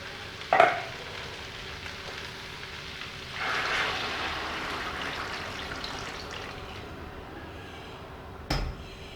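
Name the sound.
warmed stock added to jambalaya in pan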